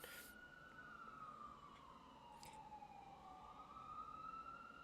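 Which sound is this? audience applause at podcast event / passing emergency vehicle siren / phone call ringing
passing emergency vehicle siren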